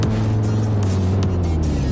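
A truck drives past on a street, a loud, steady engine drone with a low rumble that holds close by for the full two seconds.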